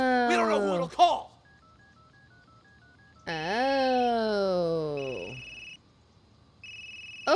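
A phone in a mental hospital mystery game dials with short electronic tones, then sends out steady high beeping ring signals between stretches of voice and moaning sounds. A single short word is spoken.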